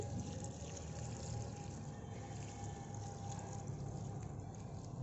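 Water poured onto garden plants, a steady soft splashing and trickling flow that stays even and fairly quiet throughout, with no talking.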